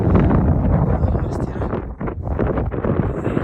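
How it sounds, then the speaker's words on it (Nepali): Strong wind gusting at a mountain campsite with tents on the Badimalika and Rara Lake trek, a loud, close roaring buffet on the microphone that dips briefly midway and then surges again, with no clear talking. "हावा चाहिँ चलिरहेको छ पुरा।"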